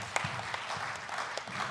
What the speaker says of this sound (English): Can we please clap for them?